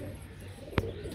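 Soft, low pigeon cooing on a rooftop in the background, faint and steady, with one brief tap or flutter partway through.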